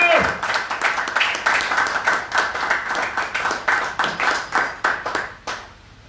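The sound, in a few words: congregation applauding and clapping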